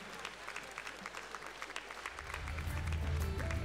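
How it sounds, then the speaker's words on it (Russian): Crowd applause for the finalists at a ProAm ballroom dance competition in Minsk, a steady patter of many hands in a large hall, joined midway by a swell of low music that builds beneath the clapping. "Громкие аплодисменты"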